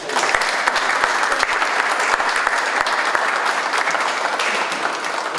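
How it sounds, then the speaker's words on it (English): Loud, sustained audience applause for employees at a golf charity funds presentation, a full dense roar of clapping with scattered sharper hand claps running steadily throughout. "So I want to give all our employees a round of applause and thank them."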